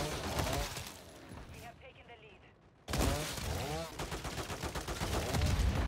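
Video game gunfire in a chaotic multiplayer match, rapid bursts of shots crackling continuously under a player's talking, briefly dropping off before loud fire resumes.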